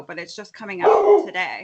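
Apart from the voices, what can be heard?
dog barking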